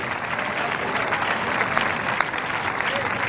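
A church congregation at a Spanish-language sermon applauds in a steady, even wash of clapping that fills the hall without a break.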